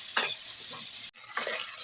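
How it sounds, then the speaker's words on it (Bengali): Shrimp frying in a pan with turmeric for a mustard shrimp dish, a loud steady hissing sizzle with stirring scrapes and a brief break midway, close by and without talk. "আস্তে আস্তে চিংড়িগুলো ভেজে নেব।"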